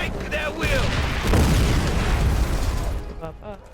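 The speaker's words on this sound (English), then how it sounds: "Our artillery will break their will." Artillery fire and explosions from the video game Call of Duty: World at War, a sustained low rumbling barrage of booms building to a loud peak midway, with voices briefly heard near the end.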